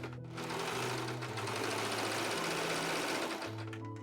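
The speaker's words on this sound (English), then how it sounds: "Then I do have a serger, so I'm just serging all of my edges." A serger overlocks fabric edges in one continuous fast whirring, humming run, starting and stopping cleanly and heard close and alone without any talk.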